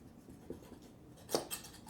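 A small knife trims the edge of gluten-free pie pastry for a coconut cream pie, making a few soft, close scraping cuts, with one sharper stroke midway and another just after, all faint and quiet.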